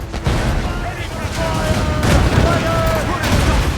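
Ship cannons fire in a naval battle in Assassin's Creed Rogue, heavy booms and crackling bursts layered over a loud, continuous rumble of battle noise, with voices shouting in the background.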